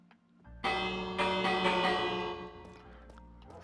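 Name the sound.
bell being rung in a video game (Minecraft-like)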